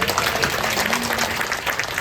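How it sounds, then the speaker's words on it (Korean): Audience at a Korean business leadership meeting applauding, a brief steady burst of crowd clapping at moderate volume with a faint voice underneath. "우리 미래의 리더에게 큰 박수 한번 보내주세요"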